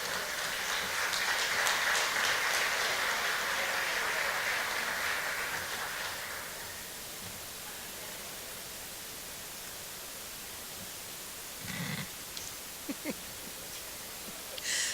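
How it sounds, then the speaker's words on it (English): Audience applauding to open an awards presentation at a museum evening program, a dense burst of clapping that fades out after about six seconds, leaving a quiet room with a few faint knocks. "They're already applauding to begin the awards presentation of tonight's program"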